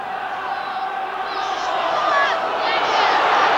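Hull FC supporters cheering in a big crowd at the Boulevard stadium during a 1982 rugby league match against Australia, a loud sustained roar of voices swelling toward the end.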